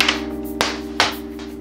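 A tiny 3D printed trebuchet throwing a small stainless steel washer, three quick hard plastic clacks and taps in under two seconds, close and crisp over a faint steady hum.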